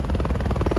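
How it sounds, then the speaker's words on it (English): A medevac helicopter lifting off near Black Rock, New Mexico, its rotor chop pulsing in a steady, loud, close throb with a low engine drone underneath. "While he was taking a nap, the helicopter took off."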